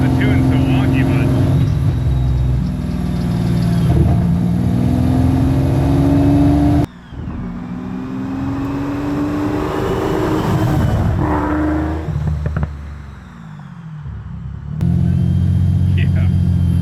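A Ford Mustang fitted with a supercar engine drives on a public street, its loud, rumbling engine note rising and falling under hard throttle and gear changes, then easing off before surging again.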